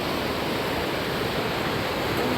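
The Langtang river rushes beneath a footbridge, a constant loud roaring wash of water heard up close without pause.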